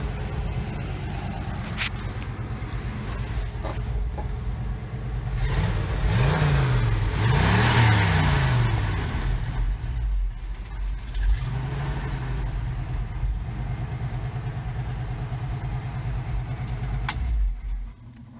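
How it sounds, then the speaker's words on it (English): A car engine fed gasoline through an old carburetor runs at a steady idle, swells into a couple of revs in the middle, then settles back to a constant drone, close and alone. "Running on the old carburetor, the gasoline."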